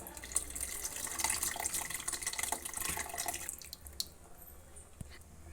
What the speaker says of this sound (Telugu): నానబెట్టుకున్న చింతపండు పులుసు వేసుకోవాలి ఇందులో.